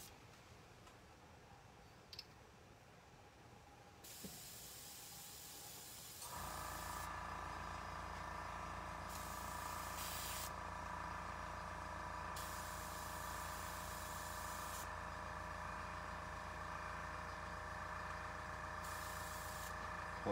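An airbrush sprays paint for hex camouflage: after a few quiet seconds a steady close hiss starts, then grows louder with a humming undertone, and higher bursts pulse on and off as the trigger is worked.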